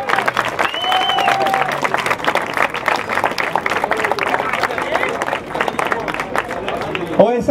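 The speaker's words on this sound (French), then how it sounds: "Voilà, on peut encore les applaudir." Spectators at the 2016 La Chinelle podium ceremony applaud the riders, a steady broadband clapping from a crowd mixed with a commentator's voice and cheering throughout.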